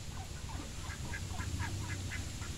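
A flock of ducks quacking in a quick rhythmic series of calls, fairly faint over a steady background hum.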